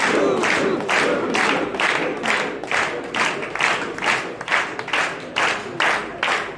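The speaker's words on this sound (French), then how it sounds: "qu'on se met tous à applaudir en disant joue, joue, joue, joue, joue, joue" An audience claps in rhythmic unison while chanting along to the beat, loud bursts repeating at a steady pace throughout.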